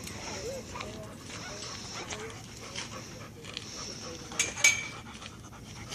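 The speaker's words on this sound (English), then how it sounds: "So here's a dog coming out." A dog pants in quick rhythmic breaths at a dog park, close and fairly faint, mixed with small yips and a brief whimper while a person talks nearby.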